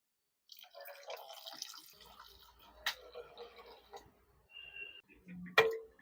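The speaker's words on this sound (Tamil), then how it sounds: "இதோட ஒரு 2 டம்ளர் தண்ணி சேர்த்துக்கலாம்." Two tumblers of water are poured into a pan of coconut-milk fish curry, giving close, intermittent splashes and trickles with brief pauses and a sharper clink near the end.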